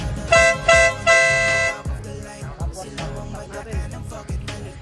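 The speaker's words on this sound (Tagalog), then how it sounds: "parinig natin yung loud horn, yung Marco." A loud, sustained Marco Tornado horn on a Kymco Xciting 400 motorcycle blasts three times in quick succession and is followed by a busy, music-like jumble of sound.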